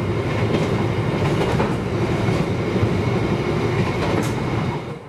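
The Sembrani 62 passenger train rumbles along the rails with a steady, loud roar and faint clickety-clack, the noise easing slightly at the very end.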